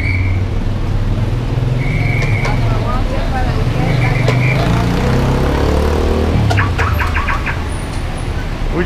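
Rush hour street traffic in Merida, Mexico rumbles loudly and continuously, with passing cars and buses, a few short horn-like tones and bird chirps over the roar.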